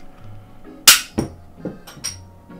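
A homemade bottle cap launcher firing a slightly magnetic J2A cap indoors in a studio: one sharp, loud crack followed by a few smaller clicks and knocks, with a faint background hum.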